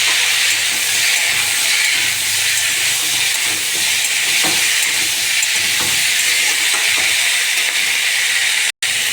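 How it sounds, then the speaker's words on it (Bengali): Pumpkin, red potato and beans fry in a hot pan, giving a loud, steady sizzle and hiss that runs throughout, with faint stirring knocks and a brief dropout near the end. "ভালো করে সব সবজিগুলো ভালো করে ভেজে নেব।"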